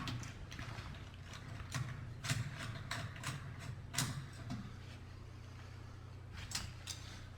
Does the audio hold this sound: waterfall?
no